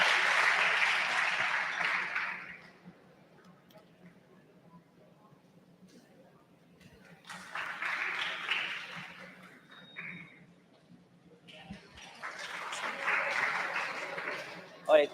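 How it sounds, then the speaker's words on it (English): Bursts of audience applause at a model UN conference, rising and fading in three separate waves with quiet gaps between them, moderately loud and heard from across the hall. "Give a huge round of applause to the delegate of Malaysia."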